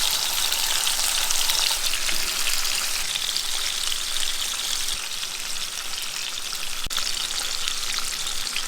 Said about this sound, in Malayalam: കണ്ടല്ലോ, മീൻ ഇരുന്ന് നല്ല അടിപൊളിയായിട്ട് ഫ്രൈ ആവുന്നുണ്ട്